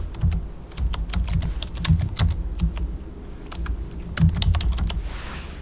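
Fingers type steadily on a computer keyboard while entering card details at an online checkout, a close, busy run of irregular key clicks with a few heavier strikes and no voices.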